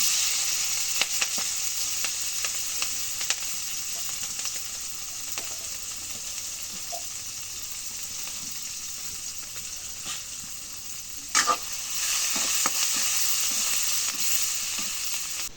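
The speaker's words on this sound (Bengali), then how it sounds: "এখন পেঁয়াজ মরিচ রসুন লেগে ভাজা হয়েছে" Onions, chilies and garlic fry in hot oil in a home kitchen, giving a steady, fairly loud sizzle with occasional faint stirring clicks and no talking.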